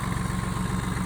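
Branson 2515 compact tractor with its engine running at a steady idle, a close, even, low chugging pulse with a faint hum above it, heard alone.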